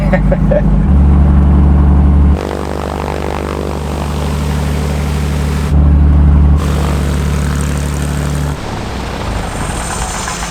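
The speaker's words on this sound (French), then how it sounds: "le moteur il tourne bien" An aircraft engine runs on the ground during a maintenance visit, a loud, close, continuous drone with a strong humming tone that swells and drops as it revs up and eases back.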